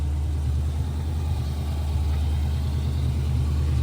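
A Chevy 350 V8 swapped into a 1970 Monte Carlo runs at a steady idle, its deep low rumble close, loud and continuous, with no voices over it.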